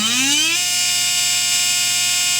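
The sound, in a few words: SpeedZone Evolution 17.5 brushless motor spinning during RPM run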